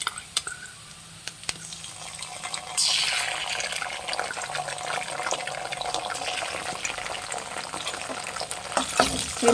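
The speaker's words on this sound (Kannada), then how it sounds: "ಇದನ್ನು ಫ್ರೈ ಮಾಡಬೇಕು, ಚೆನ್ನಾಗಿ ಫ್ರೈ ಮಾಡಬೇಕು" Chicken 65 with red chilli sauce fries in a pan, giving a steady sizzling hiss that swells louder partway through and continues without talk.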